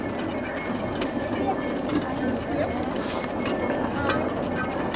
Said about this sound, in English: Most of the horses we got working in the camp here today are Percherons.